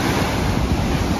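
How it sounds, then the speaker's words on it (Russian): Black Sea waves surging and washing ashore in a steady, loud roar, with wind buffeting the microphone throughout and no voices. "Офигенные волны, конечно."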